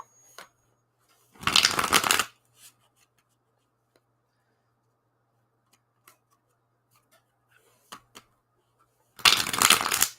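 Two brisk riffles of a deck of playing cards being shuffled close by, each lasting under a second, with faint taps and handling noises in the quiet between them.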